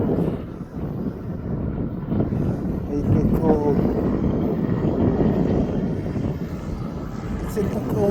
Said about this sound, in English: I've got a little private aircraft waiting to go out.